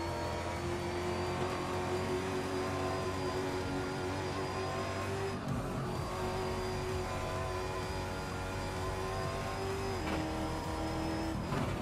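Stock car racing in Curitiba, heard in a race game: a car engine revs and climbs in pitch, drops abruptly on lifting off for a corner, then accelerates again, steady and fairly close.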